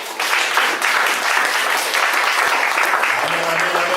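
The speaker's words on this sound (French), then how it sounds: "Là, vous avez acclamé un homme, vous avez acclamé le docteur Georges" A church congregation claps and cheers for Doctor Georges, a loud, dense, steady round of applause from a large crowd that fills the room, with a few voices calling out near the end.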